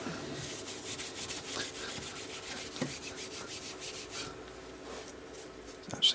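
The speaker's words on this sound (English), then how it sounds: "I'm just going to wipe over the surface just to get the excess dye off" A cloth wipes excess dye off the wooden stock of a Weihrauch HW95K air rifle, producing soft, close rubbing strokes in a quick repeated rhythm, faint and dry, with a small knock near the end.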